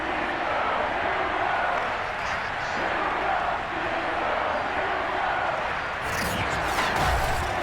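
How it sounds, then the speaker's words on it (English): A sold-out stadium crowd in the Madden 22 football game at Heinz Field, a loud, continuous roar of massed voices and cheering that holds steady throughout, with a brief burst of higher noise near the end. "Big Ben Roethlisberger greeted by this sold-out Heinz Field crowd"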